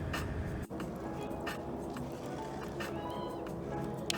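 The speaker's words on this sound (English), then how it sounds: "what you can hear is the ice races" Race cars on ice at an ice-racing event roar steadily at a distance, their engines blending into a constant drone with a brief dip, vehicles turning sideways through the corners.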